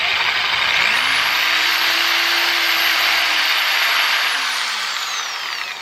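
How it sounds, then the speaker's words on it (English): A power drill bores holes through a cycling shoe sole for cleat mounting, its motor whining loudly and steadily for about four seconds close by before winding down. "so the holes are drilled"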